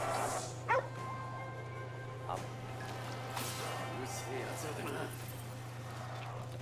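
In Ghostwire: Tokyo, a puppy gives a few scattered barks and whimpers over a steady low game hum, with a person talking over them.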